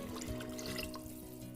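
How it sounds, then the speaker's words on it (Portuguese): Tap water running and splashing steadily as more than half a litre is added to a pot of beans being cooked at home, a continuous close trickle with no talk. "vou acrescentar aqui mais de meio litro aqui de água para vocês verem"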